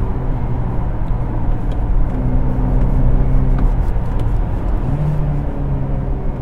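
A Honda Accord engine hums steadily from inside the cabin while driving after a downshift, a loud, continuous droning rumble with slight pitch shifts and road noise.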